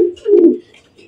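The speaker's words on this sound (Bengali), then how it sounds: "এখানে এক জোড়া কবুতর আছে, দুইটাই নর" A pair of male Black Arabian Coca pigeons gives a single deep, throaty coo that swells and fades within a second, heard up close and loud with no other sounds.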